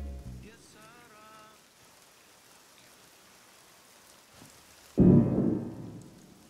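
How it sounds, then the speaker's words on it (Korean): Steady rain patters faintly in a film scene, then a sudden loud thunderclap booms and rumbles away near the end, with no voices. "천둥 소리 아니었어?"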